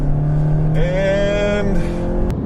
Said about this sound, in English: here comes the straightaway. I've got it floored, pedal to metal